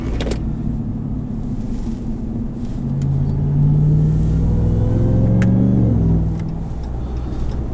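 A 2022 Ram 1500 TRX pickup with upgraded pulleys and its resonator deleted rumbles heavily, then revs up in a rising, deep roar before settling back, loud and close from inside the cab.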